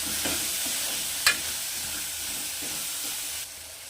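A coconut and onion mixture fries in a pan, giving a steady close sizzle and hiss with a few sharp crackles and stirring scrapes, the noise dropping slightly near the end.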